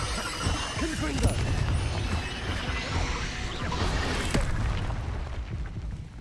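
Confringo blasting-spell explosions in Hogwarts Legacy boom and crash again and again through dense game noise, loud and close, with a voice speaking over them.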